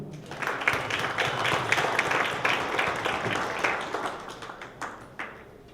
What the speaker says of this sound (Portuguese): recebam com uma salva de palmas